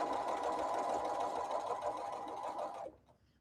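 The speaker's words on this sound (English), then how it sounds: "I'm just going to sew using a 1/4 inch seam." A sewing machine stitches a quarter-inch seam on a quilting project, running as one steady, close, continuous whir for about three seconds before stopping abruptly. No one speaks.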